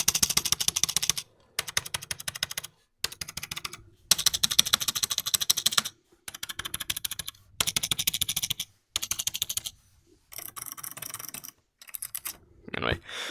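Rapid close typing on a non-mechanical RGB gaming keyboard, dense clattering keystrokes in repeated bursts with brief gaps of silence between them.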